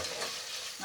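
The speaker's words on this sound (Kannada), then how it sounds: "ಈಗ ಈರುಳ್ಳಿ ಹಾಕ್ತಾ ಇದ್ದೀನಿ" Onions fry in a pan for mushroom biryani, giving a brief, soft, steady sizzle with faint stirring.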